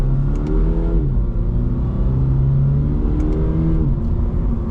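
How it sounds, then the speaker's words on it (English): A 2026 Toyota GR86 sports car engine revs up, falls back and revs again, producing a steady mid-pitched drone with rising harmonic sweeps, close and prominent, with no talking. "Has a decent sound to it. It definitely just sounds like engine."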